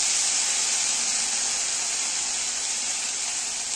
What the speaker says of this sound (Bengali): এখন আমি কলাই শাক ভাজছি।